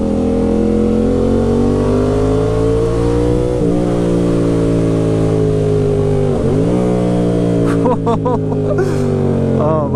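A 2020 Yamaha MT-07 motorcycle with a full GR Moto aftermarket exhaust drones with a deep, throaty note and climbs through the gears, with short rises in pitch and a crackling engine-braking burble toward the end.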